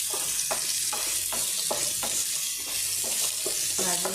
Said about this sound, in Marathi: कांदो बरो भाजून घेवपाचो.